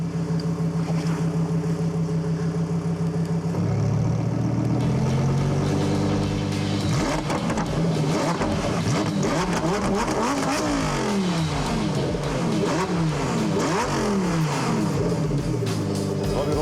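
A new, warmed-up sports car engine is revved in Corsa mode, first idling with a steady hum, then climbing and falling through repeated loud, close revs with rising and dropping pitch.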